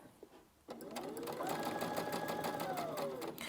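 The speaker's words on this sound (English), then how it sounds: "we're going to sew that side." Sewing machine stitching the side of a puff quilt: after a brief quiet start it kicks into a fast, even mechanical chatter that runs steadily for a few seconds, close and clear.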